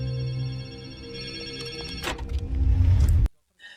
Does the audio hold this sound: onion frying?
no